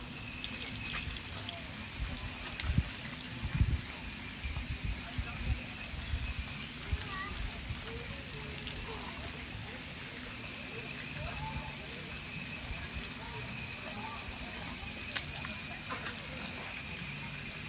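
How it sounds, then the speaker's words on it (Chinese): Water runs from a tap to rinse feet at the seaside, a continuous low gushing with occasional thumps, heard faintly under people talking. "我去拿水龙头冲一冲"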